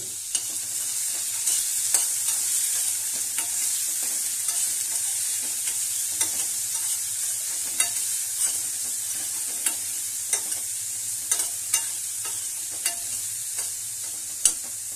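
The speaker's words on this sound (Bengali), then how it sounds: "এরপর দিয়ে দিচ্ছি পেঁপে, গাজর কুচি এবং আলু, সব কিছু একটু ভেজে নিচ্ছি।" Papaya, chopped carrot and potato fry in a pan for baby food, a steady bright sizzle with regular scraping stirs tapping through it, close and moderately loud, no voices.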